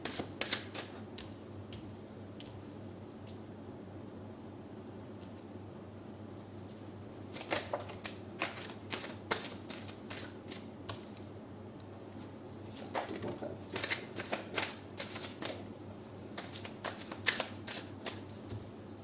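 A tarot card deck being shuffled over a steady background hum: repeated crisp card riffles and flicks come in clusters, clearest in the middle and toward the end, close but fairly quiet, with no talking.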